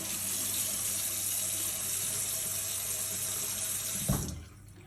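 Steady rush of water pouring from a tap over a cloth being rinsed, continuous and close, cutting off abruptly near the end with a brief clatter.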